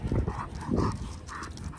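A dog at an outdoor dog park gives short, rough, noisy bursts, close and fairly loud, over steady background ambience with no talking.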